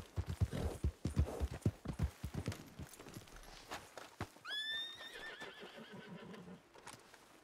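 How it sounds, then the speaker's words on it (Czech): A horse in the video game Red Dead Online, with brisk rhythmic hoofbeats clip-clopping up close, then a loud drawn-out neigh as the hooves fade under it. "Tady u toho koně se možná zdá, že jede pomalej"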